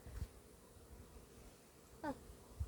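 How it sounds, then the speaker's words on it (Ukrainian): Faint, soft buzzing of honeybees at a hive entrance in a quiet outdoor setting, with a brief louder buzz passing near partway through. "Дві-три бджоли на льоткові сидить."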